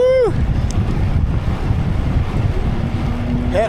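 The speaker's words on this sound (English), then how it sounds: "Headwind is kicking in." Headwind roars against the microphone during a ride, a loud continuous rush of buffeting wind that fills the whole stretch, with brief voice-like sounds at the start and end.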